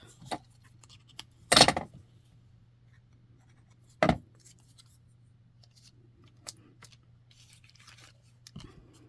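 Scissors cutting cardstock for a paper flower, a few crisp, isolated snips and rustles at close range, separated by quiet pauses over a low steady hum.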